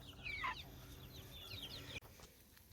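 Chickens cluck near a group of rabbits. A few soft, fairly close clucks and short calls come in quick bursts over quiet outdoor background.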